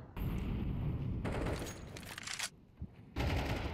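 Rapid bursts of Counter-Strike 2 gunfire crackle loudly in dense volleys, pausing briefly before another sustained burst near the end.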